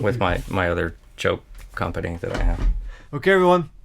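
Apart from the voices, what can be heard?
No everyday noise stands out behind the speech.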